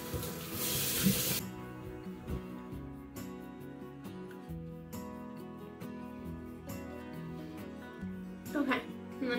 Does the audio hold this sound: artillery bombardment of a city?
no